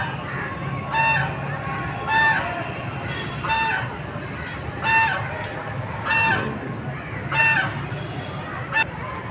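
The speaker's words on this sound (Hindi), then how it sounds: "पीछे जो है ना फ्लेमिंगो डक्स और जितने भी किस्म के परिंदे हैं" Flamingos, ducks and other mixed birds in a large shared enclosure at Bahawalpur Zoo in Pakistan, giving loud honking calls in repeated bursts about once a second over steady crowd murmur.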